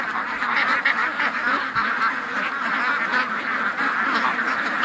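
More than a thousand ducks rush out of their pen on a humid day before a storm, a loud, continuous mass of overlapping quacks and honking calls.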